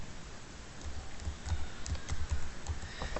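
Keys tap on a computer keyboard in a quick, irregular run of clicks. The typing sounds close but faint, over a light background hiss.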